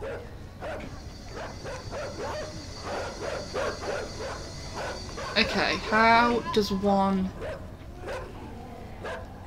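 Dogs in a video game bark and yip in short bursts, with one louder run of barks near the end, heard under someone talking throughout.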